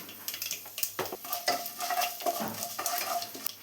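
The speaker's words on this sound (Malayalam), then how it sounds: "കടുക് പൊട്ടി വരുന്നുണ്ട്" Mustard seeds spluttering in hot oil with urad dal and a dried red chili for Kerala-style semiya upma, giving irregular sharp pops and crackles with a spoon stirring close by.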